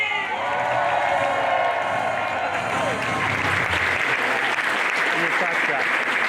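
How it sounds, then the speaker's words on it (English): A comic convention panel audience at Wizard World bursts into loud, sustained applause and cheering, a thick continuous roar of clapping and voices from start to finish. "Ladies and gentlemen, make noise for John Bailey!"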